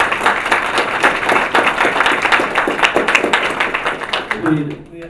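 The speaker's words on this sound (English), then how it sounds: "Can we give a hand of applause for panelists?" Audience at a developer conference session on engineering culture giving the panelists a round of applause, dense, close clapping that runs steadily for about four seconds before thinning out and stopping.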